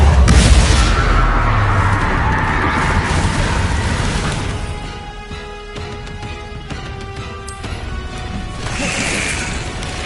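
Bombarda blasting-spell explosions in Hogwarts Legacy, with loud crashing booms and impacts packed into the opening seconds, then a busier stretch of clattering, ringing game effects and another swell near the end.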